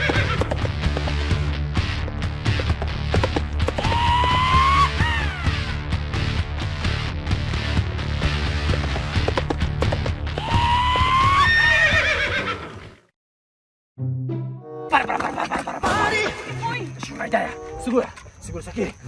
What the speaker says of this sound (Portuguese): O cavalo fugiu! Ele fugiu! O cavalo fugiu! Prenda o cavalo!